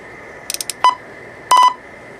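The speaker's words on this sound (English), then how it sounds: "I turn the beep down" Short electronic beeps and tones sound in quick bursts, a rapid cluster followed by a longer beep, over a faint steady hum.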